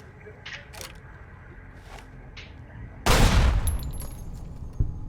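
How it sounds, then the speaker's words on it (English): A pistol shot in Fallout: New Vegas, preceded by a few faint scattered clicks and taps, then one loud, close bang with a lingering tail, followed by a smaller thud near the end. "Blow the radio up with the pistol."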